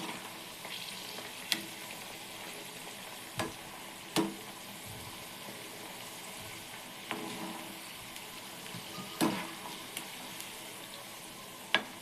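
Jackfruit kebabs fry gently on a low flame in a pan, giving a soft, continuous sizzle with occasional faint clicks and taps of a spatula, quiet and unaccompanied by speech.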